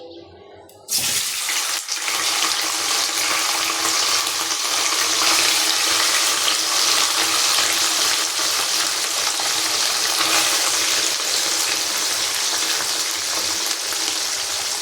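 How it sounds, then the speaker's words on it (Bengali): Boiled, cut pieces fry in a pan until reddish, with a loud, continuous sizzle that bursts in suddenly after a brief quiet moment. It then holds steady and close, with faint stirring beneath. "এখন এটাকে আমি একটু লাল লাল করে ভেজে নেব"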